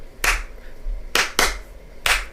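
Four sharp hand claps recorded alone for the clap part of a disco-beat pop song, arriving in an uneven pattern with a pair close together near the end.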